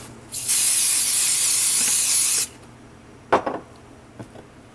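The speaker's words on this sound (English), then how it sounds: "It's a spray adhesive, and you can put it down and pick it back up again." A can of spray adhesive hisses in one steady burst of about two seconds, followed by a few light clunks and taps nearby.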